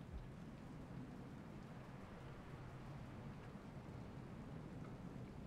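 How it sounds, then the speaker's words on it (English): Rain falls in the video game Rain World as a steady, dense hiss over a low rumble, continuous and even with no voices. "It's wet rain."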